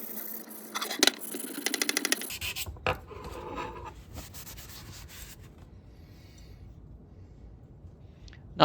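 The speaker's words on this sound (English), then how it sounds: "I decided to wet sand with 400 grit sandpaper." A J.H. Williams, Craftsman or Plomb 1/2-inch ratchet body is wet-sanded by hand with 400 grit sandpaper, giving quick close rubbing strokes that fade into softer scraping and quiet handling noise.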